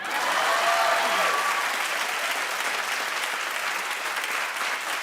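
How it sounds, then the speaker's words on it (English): A studio audience claps steadily for several seconds, a dense, even wash of applause that holds at full strength, with a brief tonal squeak near the start. "Clap if you know what I mean."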